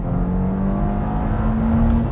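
Steady drone of a warmed-up turbocharged car engine heard close, holding a constant hum at an even pitch with no clear rise in revs.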